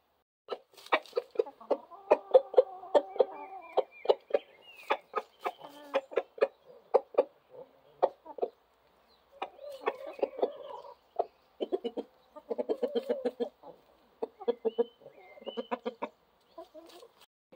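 Chickens clucking repeatedly in short, uneven bursts, fairly close, with several birds overlapping at times and no talking.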